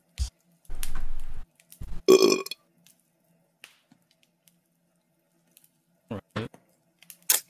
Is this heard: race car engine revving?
no